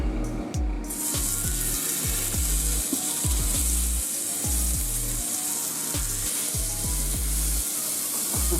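Food pieces being laid into a hot skillet sizzle and fry steadily, with repeated low thumps and bumps as they go down one after another.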